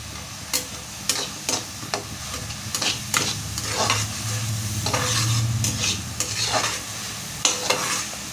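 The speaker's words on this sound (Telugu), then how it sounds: "ఇది ఆనియన్స్ అనేది ఆయిల్లోనే మంచిగా ఫ్రై అవ్వాలి" Onions fry in hot oil with a little turmeric while a spoon stirs and scrapes the pan, producing a steady close sizzle broken by repeated clinks and scraping strokes.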